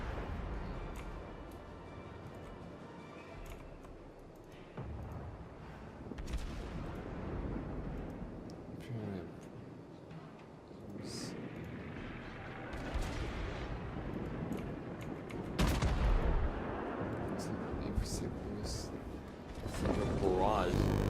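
Naval gunfire barrage in World of Warships, heard as repeated booming salvos and rumbling explosions layered under game sound and a voice talking, with louder blasts near the end.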